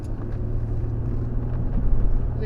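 A 2004 Mercury Sable wagon with about 133,000 miles drives along a road, giving a steady close engine drone with road and tire rumble and no voices.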